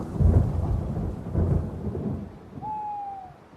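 A radio-drama storm effect: deep rolling thunder rumbles twice over steady rain, then fades, and a thin wavering whistle-like tone rises near the end.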